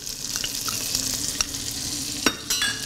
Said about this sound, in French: On va laisser suer. Donc jusqu'à ce que les oignons ils soient translucides